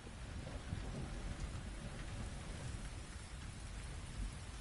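Steady rain pours in the video game The Invisible Hours, a dense, continuous hiss of drops on surfaces with a low rumbling undertone, heard alone without voices.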